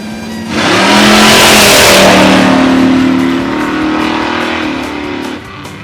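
Drag racing cars launch down the strip at the Orange Dragstrip reunion, a loud engine roar bursting in after a half-second, sustaining a revving drone for several seconds, then cutting back near the end.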